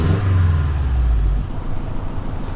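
A Subaru Forester XT engine revs hard up close, a deep loud roar that drops off abruptly into a lower idle rumble.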